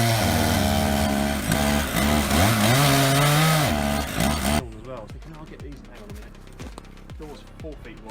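A chainsaw mill with two power heads on an 87-inch bar cutting through a massive oak, a loud, close, droning engine roar with shifting pitch that cuts off abruptly midway, leaving quieter background sound with speech.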